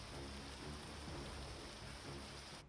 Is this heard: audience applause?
no